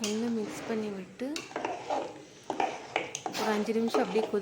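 Tamarind curry with bitter gourd and egg being stirred in a cooking pot, with repeated utensil scrapes and clinks against the pot under steady talking.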